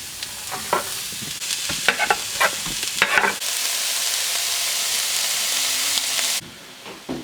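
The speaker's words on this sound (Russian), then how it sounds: "Теперь обжарим лук." Onion sizzles and crackles in a hot pan, with intermittent stirring scrapes, then a steady loud hiss of frying that drops off abruptly near the end.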